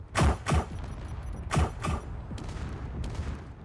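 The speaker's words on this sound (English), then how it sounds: "And then we can turn on our weapons and fire." Ship weapons firing in the Space Engineers video game on a small Defiant-style ship: several loud, booming blasts in quick pairs followed by fading rumble and fainter shots, with no talking.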